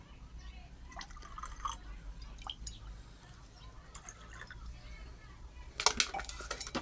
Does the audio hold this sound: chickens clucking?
no